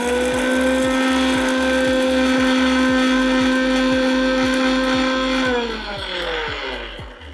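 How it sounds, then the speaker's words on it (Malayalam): A kitchen mixer grinder grinding ingredients for a lemon pickle, a loud, steady high motor whine that holds for several seconds, then drops in pitch and fades as the motor winds down, with no voices. "മിക്സിയിലിട്ടിട്ട് നമുക്കൊന്ന് പൊടിച്ചെടുക്കാം കേട്ടോ"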